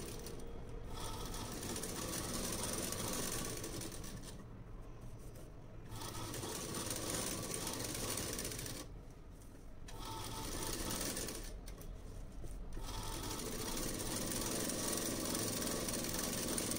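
A sewing machine stitches lining fabric onto main fabric, running in a steady close whirring drone that stops briefly three times before resuming.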